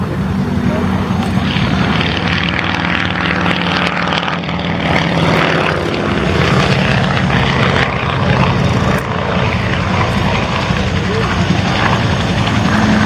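A vintage Avro Anson Mk.I propeller aircraft drones steadily through the whole stretch, its twin piston engines giving a loud, continuous roar at an air show with no break or fade.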